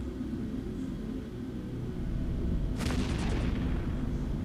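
Large autocannons firing at a ship in the space game EVE Echoes, heard as a sudden burst of rapid, punchy shots over a steady low rumble, loud and close for about a second before fading.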